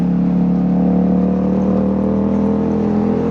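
A Honda Grom motorcycle cruises along a road at night with a steady, close engine drone holding a constant pitch and no speech.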